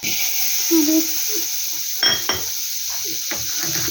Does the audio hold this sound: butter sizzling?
yes